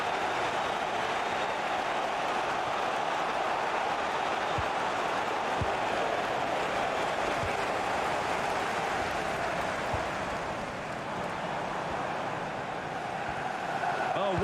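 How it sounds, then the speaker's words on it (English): A football stadium crowd roars and cheers in a dense, unbroken wall of sound that stays loud and steady throughout the match moment. "The crowd certainly think so. Just listen to them."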